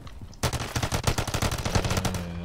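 Rapid automatic fire from the BP50 rifle in MW3 Zombies, a loud sustained burst of closely spaced shots after a brief quiet start, running to the end with no talking.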